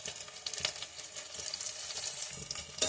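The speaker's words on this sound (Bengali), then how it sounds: "তেলটা গরম হয়ে গেছে, এরপর পেঁয়াজটা দিয়ে দিব।" Onion sizzling as it fries in hot oil in a wok, with steady crackle and a few sharper spits and stirring scrapes, close and moderate in level.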